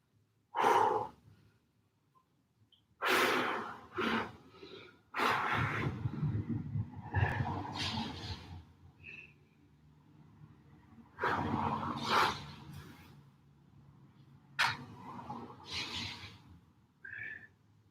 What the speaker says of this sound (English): Big deep breaths, well done.